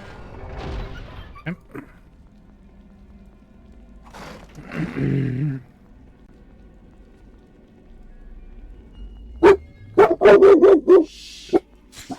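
Dog barks in the Baldur's Gate Dark Alliance video game: a single bark early, then a quick cluster of four or five sharp, loud barks near the end, with quiet gaps between them.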